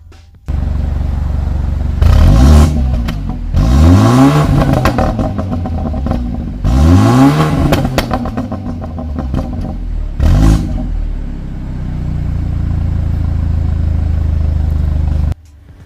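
A BMW 228i xDrive turbocharged engine with a stage 2 tune, at 74k miles, revs hard several times in quick bursts, each rising and falling, then settles back to a loud steady idle.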